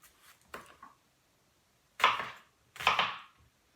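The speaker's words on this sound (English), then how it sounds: "I'm going to take 1/4 of an onion. And I'm going to roughly chop it." A knife roughly chopping a quarter of an onion on a cutting board, a few separate crunchy cuts with a faint one first and two louder ones later, close with silence between.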